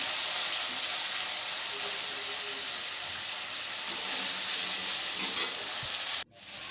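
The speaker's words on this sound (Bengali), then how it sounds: "ঝিঙেটা দিয়ে তারপর একটু পোস্ত বাটাটাও দিয়ে দিলাম ভালো করে নাড়াচাড়া দিয়ে" Ridge gourd with poppy seed paste is stirred in a hot pan: a steady sizzle with soft scraping and bubbling, close and even, cutting off abruptly near the end.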